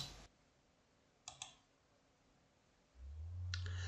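Mouse clicks sound on a computer, a quiet double click near the middle and another brief pair near the end, over a low hum in an otherwise quiet room.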